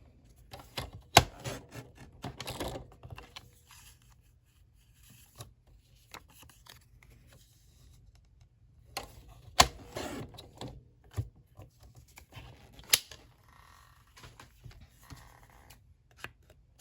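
Scissors snipping out small paper pattern pieces for a K-cup holder craft, with short bursts of crisp cutting and rustling paper separated by quiet pauses, close and fairly soft.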